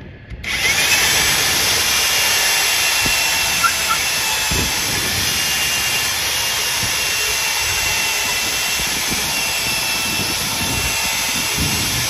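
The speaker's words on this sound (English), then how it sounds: "Let's drill this out a little bit more, see if we can" A power drill runs continuously at a high, steady whine, loud and close, with a few faint knocks underneath, enlarging a hole while building a pig processing tripod.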